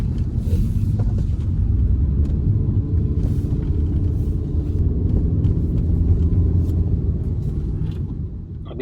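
A Maruti Suzuki S-Cross automatic climbing the Anuskura Ghat road, its engine and road noise a steady, low in-cabin rumble that stays even throughout and eases slightly at the end.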